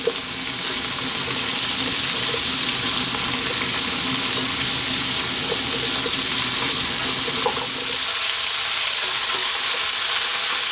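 Chopped vegetables sauté in a soup pot for broccoli cheese soup, giving a loud, steady hiss and sizzle that runs unbroken for about ten seconds with no talking.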